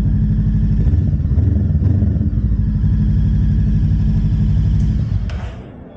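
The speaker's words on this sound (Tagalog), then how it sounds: "Ganda na ng tambucho. Ganda ng exhaust niya." A Voge CU 525 cruiser motorcycle exhaust rumbles loud and close with a deep, throbbing idle that rises slightly in a rev before tapering off near the end.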